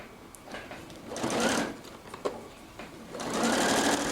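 A sewing machine runs in short stitching bursts along a slightly curved seam on a ruffle dress, stopping and restarting several times, near and clear, with no talking.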